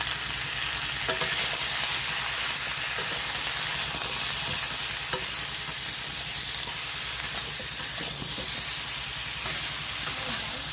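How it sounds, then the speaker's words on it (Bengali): Vegetables for a vegetarian dish frying in a pan while being stirred, a steady dense sizzle and hiss with scattered spatula scrapes and taps running continuously and close, with no talk. "সবজিগুলো ভালো করে ভেজে নেব। যতক্ষণ এর জলটা বেরোবে ততক্ষণ ভেজে"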